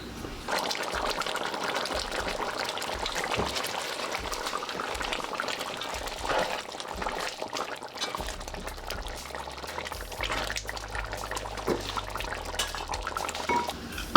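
Oxtail for a run down simmers in a pot with a steady bubbling hiss, broken by occasional clinks of the lid against the pot, close and moderately loud with no talking.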